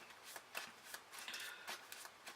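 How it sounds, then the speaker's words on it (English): A deck of Yu-Gi-Oh! trading cards is shuffled by hand in quick riffling bursts, close and fairly quiet, with no voices. "So we're just going to quickly shuffle that up"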